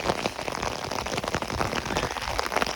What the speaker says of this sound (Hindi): चंगी तेज बारिश जड़ा ना लग गई।